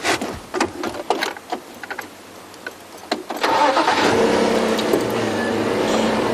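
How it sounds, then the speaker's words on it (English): A safari vehicle at night turns over with a few sputtering clicks, then its engine catches and settles into a steady, close idle hum. "we are back on our normal safari vehicle"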